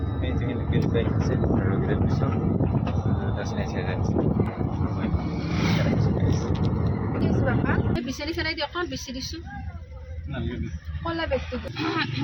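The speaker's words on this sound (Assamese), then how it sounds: "গাড়ী ভুম ভুম কৰি দেই" A car on the move, heard from inside as a steady engine and road roar for several seconds; the noise then drops lower and people's voices take over.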